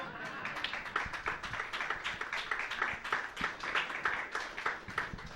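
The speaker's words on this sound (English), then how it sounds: "Poets get applause." Audience at a café poetry performance clapping for two dueling poets, a modest, fairly quiet round of distinct hand claps with an uneven rhythm, somewhat distant.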